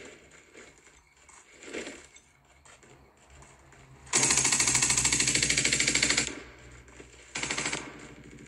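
Rapid automatic gunfire from the mobile shooter game Rogue Agents bursts loud and close in a sustained two-second volley, followed by a shorter burst after a quiet stretch of faint game ambience.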